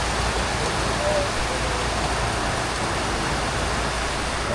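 Steady rain falls on a bamboo hut (bahay kubo) on a windless day, a dense, even hiss of drops drumming continuously on the roof and surroundings.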